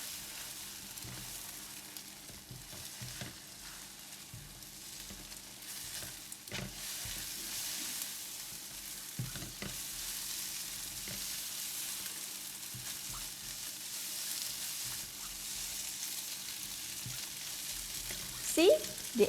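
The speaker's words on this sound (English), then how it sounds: "With a high heat, egg will cook really fast." An egg fries over high heat in a hot pan, giving a steady, fairly loud sizzle throughout with occasional stirring clinks and scrapes, and a brief clatter near the end.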